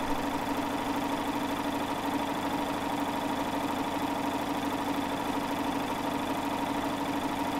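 A Baby Lock Triumph serger runs steadily while it serges down a length of organza fabric, giving a continuous close mechanical hum and whir with a faint vibration throughout and no voices.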